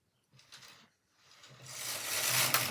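A Brother KH710 knitting machine, freshly refurbished, with its carriage running across the needle bed: a quiet pause, then a rising, steady mechanical clatter and whir with ratcheting clicks that builds louder toward the end, with no voices.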